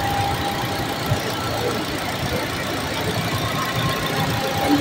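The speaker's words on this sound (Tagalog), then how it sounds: "Tapos ito po ang kanyang engine." Idle of a 2017 Ford EcoSport automatic with 65,000 km, a steady low engine hum running evenly throughout, recorded close with faint background noise and no talking.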